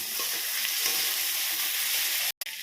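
Onions frying in a pan for a prawn curry, a loud, continuous sizzle with light stirring scrapes, close up, cutting out briefly near the end.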